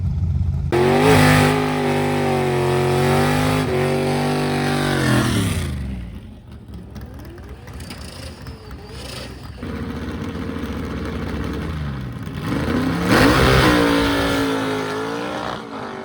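Race car engine revving loudly at a drag racing track, sustained high revs rising and falling, dipping to a lower rumble midway before roaring up again, with no talk over it.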